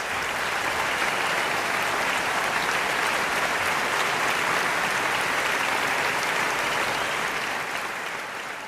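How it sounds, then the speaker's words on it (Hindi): Loud, dense applause from an audience in a hall in Gurgaon greeting a speaker as he is introduced. The clapping holds steady throughout and eases slightly at the very end. "जोरदार तालियों से स्वागत हो जाए डॉक्टर कुमार विश्वास।"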